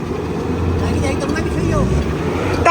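A Mahindra Scorpio 4x2 engine rumbles steadily on an offroad course, a continuous low drone with a rise near the end, while people talk and cheer over it.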